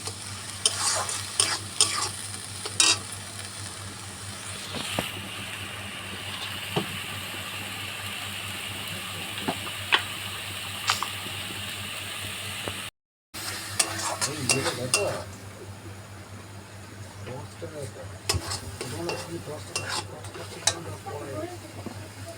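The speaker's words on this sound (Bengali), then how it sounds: "এবার মশলাটাকে ভালো করে কষবো" Masala being sautéed for a chicken stomach and liver curry, with steady sizzling and repeated stirring scrapes in the pan throughout, broken by a brief silence partway, then continued frying.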